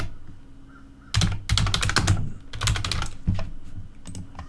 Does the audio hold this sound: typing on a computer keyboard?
yes